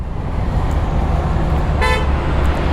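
A single short car horn beep sounds over steady road and engine rumble, heard from a moving motorcycle.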